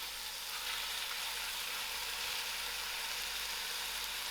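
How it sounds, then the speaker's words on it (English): Lamb pieces fry in a pot over lowered heat, making a soft, continuous hiss and sizzle that stays level throughout, heard alone without speech. "I will lower my stove and allow this to fry out properly."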